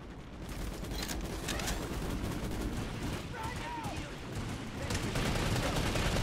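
Short bursts of gunfire rattle in a first-person shooter game, repeated shots clustered in quick groups over a constant noisy backdrop of game sound.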